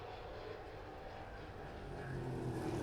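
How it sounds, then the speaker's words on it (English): Roaring V8 engines of NASCAR-style race cars at a road-course race, a steady loud drone that swells slightly toward the end as the cars approach. "Listen to that V8."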